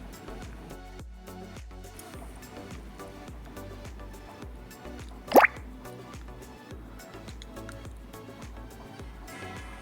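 Half a cup of water is poured into a chicken malai handi mixture in a quick, rising splash midway through, with quiet kitchen drips and faint stirring sounds before and after.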